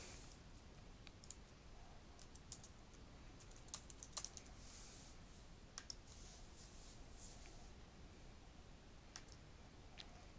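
Quiet, steady typing on a computer keyboard while logging in, a run of soft irregular key clicks with occasional sharper taps, close and alone with no voices.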